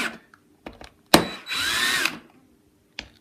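Power drill driving screws into a metal plate on a custom Telecaster guitar build, a loud close whine in two short bursts, the second lasting about half a second, with quieter clicks and handling noises between.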